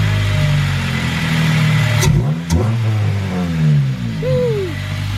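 A Honda Civic fitted with a new aftermarket air intake revs up and down close by, rising and falling engine pitch with a couple of sharp throttle blips and an audible intake roar over a steady idle.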